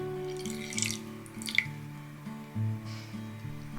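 Water, yeast and oil being stirred in a bowl for dough, soft wet squishing and dripping splashes in short bursts, close and quiet against a faint tonal background.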